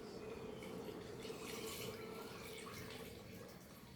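Strained jaggery syrup poured into a pot of cooked green gram for payasam, making a steady close liquid pouring and splashing sound that runs the whole time, with no talk.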